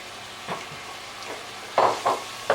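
Mushrooms sizzle softly in a pan for a green Thai curry, with a few scraping stirs, close and fairly quiet.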